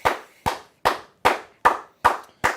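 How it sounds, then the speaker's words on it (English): Seven sharp claps, evenly spaced about half a second apart, each one loud and close with a short ringing tail, with no voices around them. "let's clap it up"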